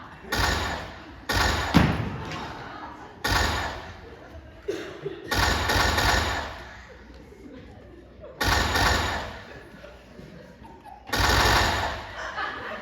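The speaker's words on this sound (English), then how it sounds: "Gunshots!" Stage gunshot effects go off during a theatre performance of The Play That Goes Wrong: several sharp, loud bangs spaced irregularly, each followed by a short ringing tail, with quieter stage noise and voices in between.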